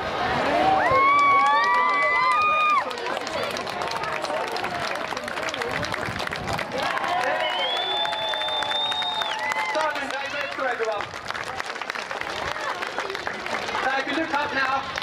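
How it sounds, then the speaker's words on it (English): Outdoor crowd cheering and clapping as a parachutist lands at a steam train and Red Arrows event, with shouting and whistle-like calls over steady applause and voices throughout. "I want you to give him a nice round of applause and a loud cheer"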